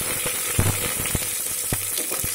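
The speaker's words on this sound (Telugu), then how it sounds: "పోపు వేగింది కదా, ఎండుమిర్చి, పచ్చిమిర్చి, అల్లం వెల్లుల్లి ఇలా చెదగొట్టి వేయండి" A tempering of dried and green chilies, crushed ginger, garlic and small onions fries in a pan for a village-style pappu charu, a steady close sizzle broken by several stirring knocks, no talking.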